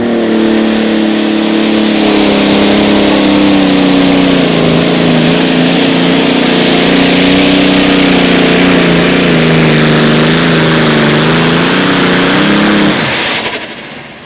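A John Deere and a Farmall pulling tractor roar together at an outlaw tractor pull in Wisner, Nebraska, engines droning loud and steady for about thirteen seconds with wavering pitch before abruptly cutting off.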